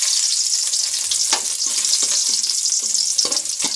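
Garlic frying in hot oil as a lentil and tamarind stew is prepared. It gives a loud, continuous crackling sizzle with occasional soft stirring knocks, and no talk is heard.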